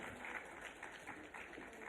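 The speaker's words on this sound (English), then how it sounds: "A huge round of applause there." Faint, distant applause from an audience at a brand awards event, a soft continuous wash of clapping.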